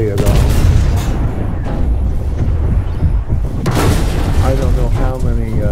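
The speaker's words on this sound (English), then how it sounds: "I'm getting shot at from all over the place" Gunfire and explosions in a tank video game with a Vickers MK7 main battle tank, loud continuous booms and rumbling blasts filling the scene while a voice talks over them.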